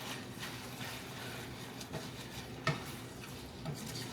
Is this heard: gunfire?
no